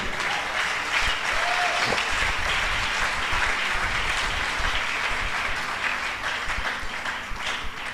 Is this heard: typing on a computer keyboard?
no